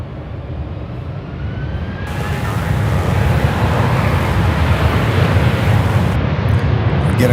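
Airplane taking off at Charlotte Douglas International Airport, a jet engine roar that swells from a distant rumble into a loud, sustained broadband rush heard from nearby, with no talking.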